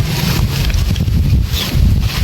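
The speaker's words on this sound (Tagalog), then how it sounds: "Lakas ang hangin." Strong wind blows across an open agricultural lot beside a road, a steady loud rumble of gusts buffeting close and constant throughout, with no talking.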